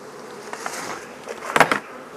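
Honeybees buzzing around an open beehive during a hive inspection, a steady close hum with louder passes as individual bees fly near, no talking.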